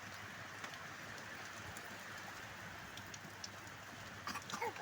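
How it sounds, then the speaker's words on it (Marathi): A sudden heavy rain falls, making a steady, dense hiss of drops that runs unbroken throughout at moderate distance, with a few faint bird calls and brief louder patters near the end. "इतका पाऊस सुरू झाला जोरात हे बघा मी दाखवते तुम्हाला"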